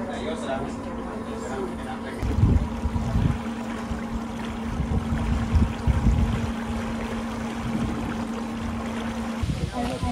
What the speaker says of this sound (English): I did not expect to take a boat ride on the Camino.